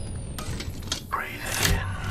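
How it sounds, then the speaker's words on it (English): Apex Legends shield recharge effect, a rising electronic whir and hum layered over steady game ambience with whooshing noise, loud and close, with a voice speaking over it. "Recharging my shield."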